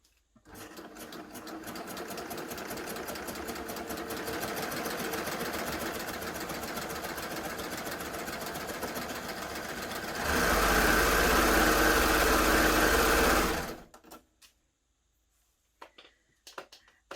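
A Baby Lock Gloria combination machine stitching steadily, its rapid needle clatter running for about ten seconds before speeding up into a louder, denser whir, then stopping abruptly into near silence.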